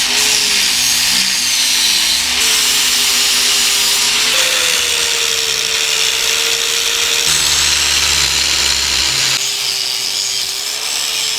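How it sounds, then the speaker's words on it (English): A power grinder runs continuously and loudly against the welds on a repaired snapped metal frame, and its pitch shifts slightly as the load changes. "clean up the welds, kind of grind them down a little bit"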